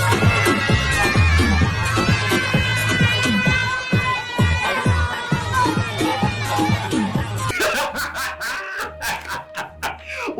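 A crowd at a dancehall event roars and cheers as a patron is lifted into a daggering spree, with loud, dense shouting and laughter throughout that thins near the end.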